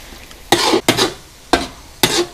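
Eel stir-fry with fingerroot, green peppercorns, red chilies and seasoning being stirred in a pan, four short scraping bursts with brief pauses between, fairly close and without voices.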